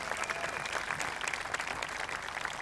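An audience at a startup accelerator's tenth-anniversary celebration claps steadily, a dense, even burst of applause from a sizeable crowd with no voices over it.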